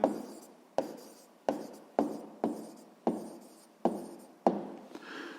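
Pen strokes on paper while writing out the answer to a sixth-grade math exercise, about eight distinct scratchy bursts at a steady pace, close and quiet, each fading before the next.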